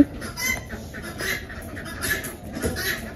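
Ducks quack repeatedly in a nasal, chattering flock, fairly close, with steady outdoor background noise and no talking.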